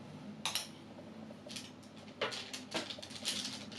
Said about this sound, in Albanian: do vëmë biskotat në tavë. Do ndihmohemi me 2 lugë